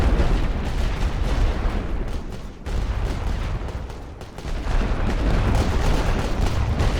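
A World War I artillery barrage in the video game Great War Western Front: dense, continuous rumbling booms and blasts that roll together loudly, easing briefly twice before the barrage surges back to full force.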